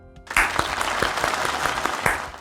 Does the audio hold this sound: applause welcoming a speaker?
yes